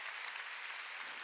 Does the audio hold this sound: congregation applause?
yes